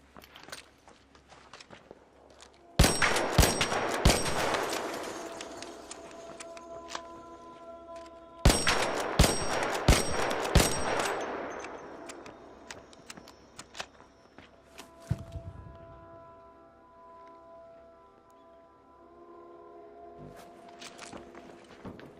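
Two short rapid volleys of weapon fire from Arc Raiders, loud and sharp with ringing tails, separated by quieter stretches with faint clicks.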